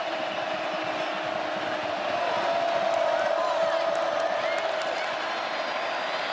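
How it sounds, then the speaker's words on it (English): A college football stadium crowd roars in a broad, sustained wall of cheering on third and long, steady and loud throughout with no break. "listen to this crowd on 3rd and long"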